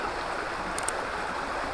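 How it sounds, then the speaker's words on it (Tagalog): A small river flows steadily as a continuous, even wash of water, with a couple of faint brief ticks partway through and no talking. "So maliit lang din na ilog."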